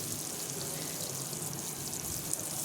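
Onions and a small tomato frying on a high flame for chicken curry, a steady close sizzle and hiss running without a break, with faint crackles now and then.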